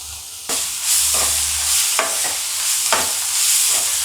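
Ginger and garlic paste masala for mushroom gravy fries in a pan, a loud close sizzle punctuated by several sharp stirring scrapes about once a second, with no talking.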